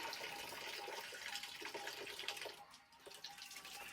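Water splashing and trickling as someone washes their face with soap and water in a village setting, a soft, close, uneven patter with brief pauses, faint overall.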